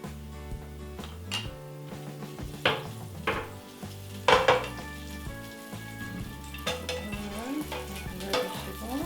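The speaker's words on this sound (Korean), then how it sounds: "프라이팬에 불을 올리시고요. 버터 이 정도 넣으시고요." Butter sizzles in a hot frying pan for egg toast, a crackling fry broken by several sharp scrapes and clinks of a utensil against the pan, close by and without speech.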